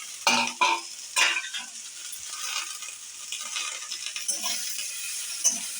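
Jute leaves tossed with onion, chilli and garlic in a pan: a few loud close scrapes early, then softer intermittent stirring over a light sizzle, with no talking.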